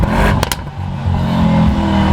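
Mercedes-AMG GT63 S 4-Door engine revving under acceleration, a deep, aggressive, steady roar with a couple of brief sharp clatters near the start, loud and continuous throughout.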